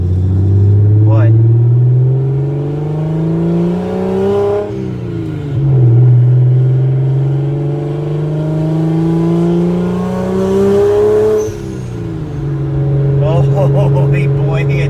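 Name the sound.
BMW 335xi N54 big single turbo engine driving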